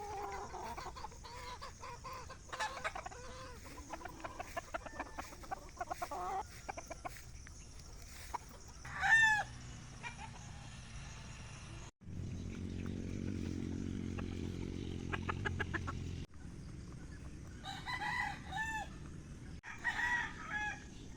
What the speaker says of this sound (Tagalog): nagpapatuka ng mga manok